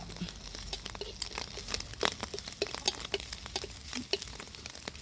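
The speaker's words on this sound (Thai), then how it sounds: "เสร็จแล้วเราก็มาลงพริกกระเทียม น้ำมันเก่าเราแหละ ลงพริกพริกกระเทียม" Dried chili and garlic sizzle and crackle in reused hot oil in a wok while being stirred, with continuous close popping and scraping throughout.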